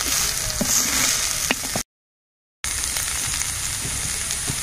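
Bitter gourd leaves and bori sizzle steadily in a hot pan while being stirred, with a continuous frying crackle broken by a brief silent gap and scattered stirring clicks.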